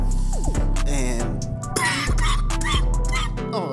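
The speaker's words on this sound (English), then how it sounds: "oh, sorry guys for coughing the air like that." A man coughs and clears his throat several times in quick, rough bursts, close to the microphone, with music playing underneath throughout.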